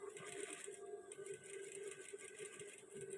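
A sewing machine stitches a garment waistband at a slow pace, its faint, steady mechanical whir running continuously with a light rhythmic ticking and no talk.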